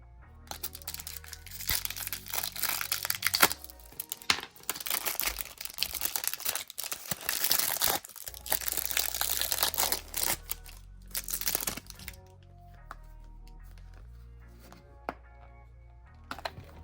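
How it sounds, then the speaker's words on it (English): Crinkly packets of nail art foils are opened, giving loud rustling and crackling bursts for several seconds, followed by a quieter stretch with a few scattered clicks and taps. "So I'm gonna open these up so that you can see what all of the foils are."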